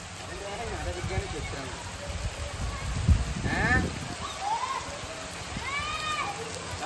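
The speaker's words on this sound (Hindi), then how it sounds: "भाइयों अच्छी वर्षा हो रही है" Steady rain pours outdoors, a continuous wash of falling water and splashes heard from a middle distance, with a voice talking faintly over it.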